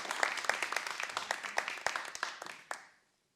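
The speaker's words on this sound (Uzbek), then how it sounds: "Olqishlab qo'yamiz." Talk show audience applause, a sparse close-miked round of individual claps in an irregular rhythm that fades out after about three seconds, ending in silence.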